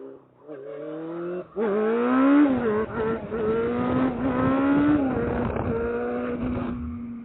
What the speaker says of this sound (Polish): Dobra, wrywiemy sobie z jedynki z gazu.